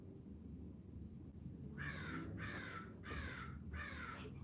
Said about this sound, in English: Can anyone hear that crow in the background?